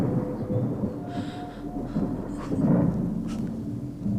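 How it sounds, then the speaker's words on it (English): Low rolling thunder from a storm directly overhead, rumbling steadily across the stretch and swelling slightly louder toward the middle and end, with no talk. "That storm's right on top of us."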